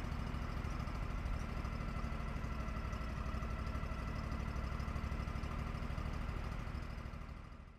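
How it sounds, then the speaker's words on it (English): An engine-driven welder runs steadily at its low speed setting after warming to operating temperature, a continuous, even mechanical drone with a low throb that holds at constant loudness and is heard alone, close by. "I ran this welder until it reached operating temperature and identified the low speed setting."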